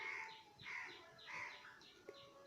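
Soft, rolling pigeon coos repeat in a steady rhythm, about four rounded calls over a couple of seconds, heard close and alone with no talking.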